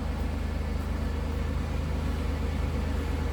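Steady, even idle of a supercharged 3800 V6 in a 1996 Buick Riviera, heard from behind the car as a low, smooth, pulsing rumble that stays constant throughout.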